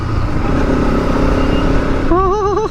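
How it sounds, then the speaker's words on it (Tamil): A 2025 Bajaj RS200 motorcycle engine revs loud and close, holding a steady, throaty drone before the pitch wavers up and down in quick throttle blips near the end. "இதோட சவுண்டு ரேஸ் இன்ஜின் சவுண்டு வந்தது கைஸ்."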